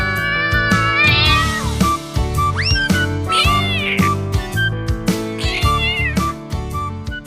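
Cartoon cats meow over and over in a lively, layered exchange, the rising and falling cries loud and close above steady background music, with no talking.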